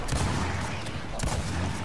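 Dense, continuous gunfire from Gears of War 4, a steady loud barrage of rapid shots blending into a rumbling wash with a couple of sharper cracks.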